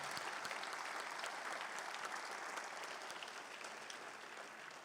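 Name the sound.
congregation applause to the Lord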